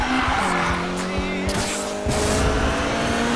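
Nitrous boost in the racing game Need for Speed Payback: a loud, steady engine roar with rising tonal whine and tire squeal, continuous over three seconds and briefly surging midway.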